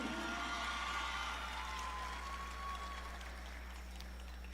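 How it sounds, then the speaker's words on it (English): An audience at an awards ceremony gives a moderate burst of applause that gradually thins out over a few seconds, heard over a steady low hum from the venue. "Let's give her a round of applause again."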